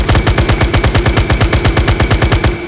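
Rapid automatic gunfire in ARMA 3, fired at a wall, rattles in a loud, evenly spaced burst of about two dozen shots that stops abruptly near the end.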